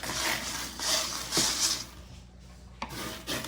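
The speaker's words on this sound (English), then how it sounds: "And just gonna stir it up" Brightly coloured aquarium substrate gets stirred in a small container for a cheap mini aquascape, giving a gritty scraping and rubbing sound in close, repeated strokes with short pauses in between.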